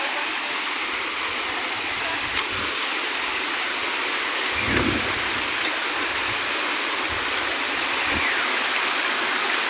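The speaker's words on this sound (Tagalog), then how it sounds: "Ang sarap pakinggan ng lagaslas ng tubig." Steady, dense rush of water falling at Esteban Falls fills the scene, broad and continuous, with occasional low thumps beneath the roar.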